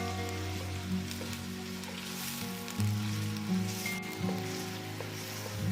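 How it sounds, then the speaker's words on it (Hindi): Two medium sliced onions frying in about 200 ml of oil for a beef pulao, a steady close sizzle and crackle running throughout with no one speaking. "अब इसमें 2 दरमियानी साइज़ के प्याज स्लाइस करके शामिल कर दें और लाइट ब्राउन होने तक फ्राई करेंगे।"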